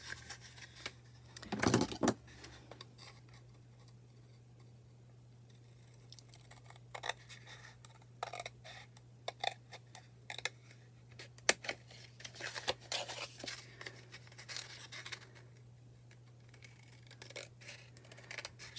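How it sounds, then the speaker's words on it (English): Scissors cut a strip of paper for a junk journal embellishment, making faint, close snips and crisp paper rustles scattered over a quiet background with a low steady hum. "I can cut a little piece out of here"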